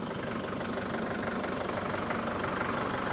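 A car engine with a faulty EGR valve idles steadily and somewhat roughly, a continuous close rumble with no voices.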